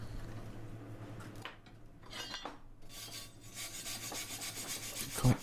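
A wire brush scrubs across a fresh weld on metal mesh hooks, a quiet, uneven rasping in several short strokes with a low steady hum underneath and a small metallic knock at the end.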